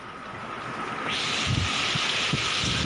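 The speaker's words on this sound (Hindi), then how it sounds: "देखिए कितनी तेज बारिश हो रही है, तेज हवाएं चल रही हैं" Heavy rain and strong gusting wind from Cyclone Nisarga in Kolai village, Raigad, on the Maharashtra coast: a dense, loud hiss that swells sharply after a second, with low buffeting wind thumps against the microphone.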